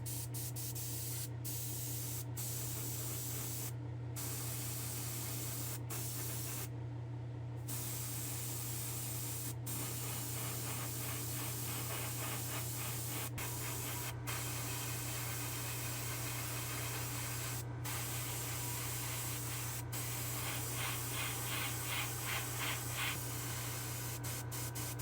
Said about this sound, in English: I plan to spray our orange, and then we'll peel off the other side, cover the orange, and then spray that kind of maroonish color